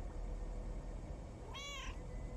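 A cat in the video game Lake gives one short, clear meow over a steady low background hum, with no speech around it.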